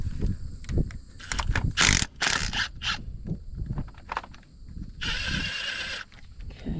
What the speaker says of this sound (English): That one looks like we're gonna have to wrench it out.